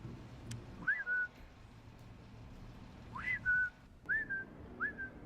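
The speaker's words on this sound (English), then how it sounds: "this is a grown man whistling at his girlfriend like she's a dog." A grown man whistles to call someone in the game Fallout 3, four short rising-then-level whistles spaced a few seconds apart over a low game ambience.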